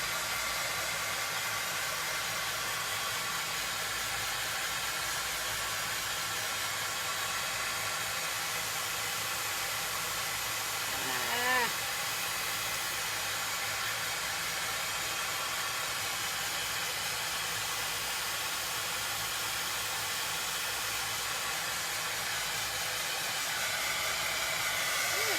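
A hair dryer blows steadily and close up to dry Mod Podge glue on a buffalo plaid farmhouse craft chicken, a constant hissing whoosh that barely changes for the whole stretch, with no talking.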